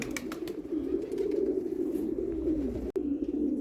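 Domestic fancy pigeons, spotted and feather-footed crested birds, coo in a low, throaty rolling drone close by, a continuous warbling call for several seconds with a brief dropout near the end.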